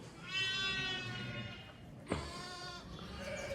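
Sheep and young lambs in a lambing pen bleat nearby, a long wavering cry followed by a sharp knock and another bleat, with quieter calls from other animals behind.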